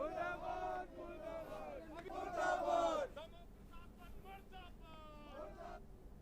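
Congress party workers raising an uproar at a protest, many voices shouting and chanting together in loud surges, easing off into scattered calls and talk.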